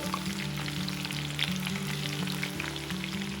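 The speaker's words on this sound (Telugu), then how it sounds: "చికెన్ క్రిస్పీగా ఎర్రగా అయ్యే వరకు వేయించుకోవాలి." Street-style chicken 65 deep-fries in hot oil with a dense, continuous sizzle and crackle, close and even throughout, with a low background hum and no voices.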